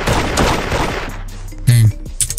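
Video game gunfire from a shooter, with a short burst of loud shots near the end, over a busy background of game sounds.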